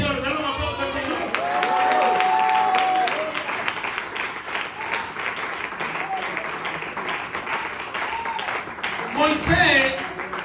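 A church congregation applauds together in a sustained wave of clapping and crowd noise, steady for several seconds and then thinning, with a voice speaking over the clapping.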